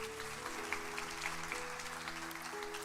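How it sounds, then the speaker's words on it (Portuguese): A church congregation applauding, a quiet, steady wash of clapping layered over sustained tones in the room, continuous and fairly distant. "Aplauda ao Senhor"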